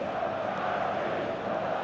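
Stadium crowd noise from the eFootball 25 video game, set in Munich, forms a steady, even wash of distant cheering with no clear peaks, heard without any talk.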